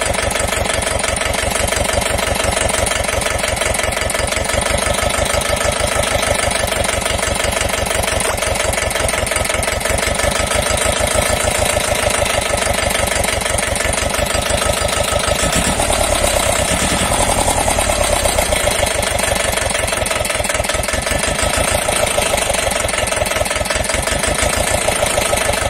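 Mahindra Jivo 245di 4WD tractor diesel engine idling steadily during fuel timing adjustment, a loud, continuous rhythmic chugging with fast regular firing pulses; a brief roughening midway before it settles back to an even idle, no talking.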